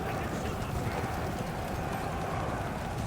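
Horse skirmishers gallop across a medieval battlefield in the strategy game Total War Saga: Thrones of Britannia, a dense, continuous clatter of many hooves with a faint neigh, fairly quiet in the mix.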